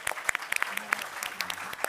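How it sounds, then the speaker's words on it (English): A conference audience at a film industry panel gives a brief, faint round of applause, with scattered claps heard at a distance. "I think that deserves a round of applause"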